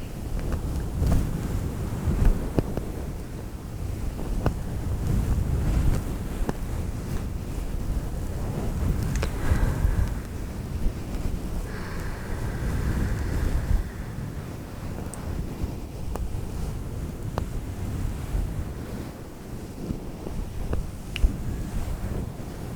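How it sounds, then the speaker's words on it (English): Low rumbling surf rolls in and out under steady wind, distant and soft, with no voices. "listening to the ocean crash on the shore."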